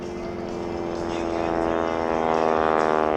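SNJ Texan propeller airplane passing during an air show at Jones Beach, a loud droning engine and prop roar that swells steadily as it approaches, with a crowd or announcer faintly underneath.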